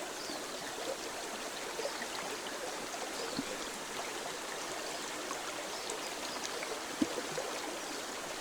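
A small forest creek in the taiga burbles and rushes steadily and close by, a continuous even water sound with an occasional faint tap or splash.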